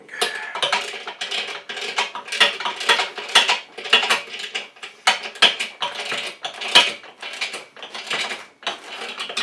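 Socket ratchet tightening bolts in a bike or vehicle assembly, giving quick bursts of metallic clicking in an uneven rhythm, close and fairly crisp, with no talking.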